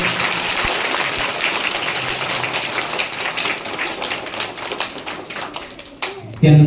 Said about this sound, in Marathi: सगळ्यांनी जोरदार टाळ्या वाजवल्या